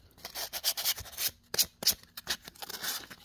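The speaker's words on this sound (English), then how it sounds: "Got my sandpaper. It's a 220 grit." 220 grit sandpaper is rubbed over wood in short, uneven strokes, a close, dry rasping scratch with brief pauses between passes.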